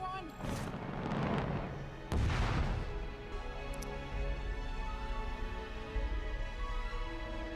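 A ship's weapon in the sci-fi TV series The Expanse fires two loud booming blasts, each with a long rumbling roar and hiss, which then fade into a low steady hum.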